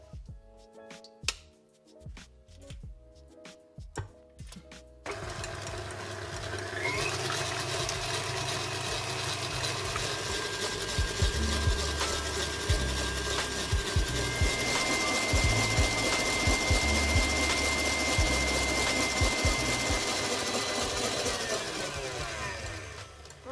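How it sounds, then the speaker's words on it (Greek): Electric mixer beating eggs with sugar at high speed, a loud, steady whirring drone that starts after a few sharp clatters and runs on continuously, close up. "θα βάλω και τη ζάχαρη και θα χτυπήσω σε δυνατή ταχύτητα για να φρατέψω"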